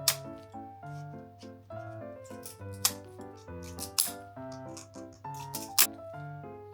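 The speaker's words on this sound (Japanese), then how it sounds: "ハサミで細切りにしていきましょう。" Scissors snip dried kombu kelp into thin strips for a yuzu and napa cabbage pickle, a steady series of close crisp cuts with a few sharper clicks in between, heard over a soft tonal background.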